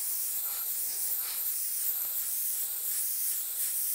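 An airbrush sprays paint in a steady, continuous hiss, close and even throughout with slight fluctuations, while the trigger is being worked on a beginner's final exercise.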